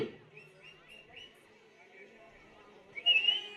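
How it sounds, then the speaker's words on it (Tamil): At a Tamil bull-taming event, a faint announcer voice gives way to a brief burst of high, shrill crowd whistling near the end. "சீட்டி அடியுங்கள்"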